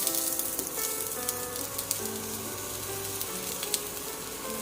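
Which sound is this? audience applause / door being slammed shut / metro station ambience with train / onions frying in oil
onions frying in oil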